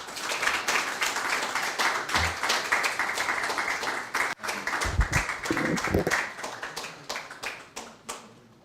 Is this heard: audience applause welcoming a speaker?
yes